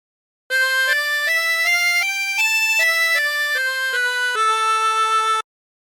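A 16-hole tremolo harmonica plays a short phrase of God Rest Ye Merry Gentlemen as a string of sustained, reedy, wavering notes that step up and down at an even pace, loud and close, unaccompanied.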